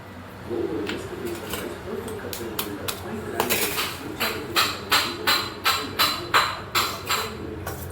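Two eggs being beaten in a bowl, heard first as a few scattered clinks and then as a fast, regular run of rhythmic taps against the bowl, close and fairly loud.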